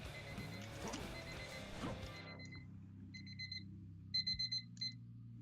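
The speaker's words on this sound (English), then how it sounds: "Sorry about the beeping. That is my reminder to not leave the fudge in the refrigerator for too long." An electronic reminder alarm beeps in short repeated high-pitched pulses, starting faint and getting more distinct as loud game music and crashing effects cut out, leaving the beeps over a low hum.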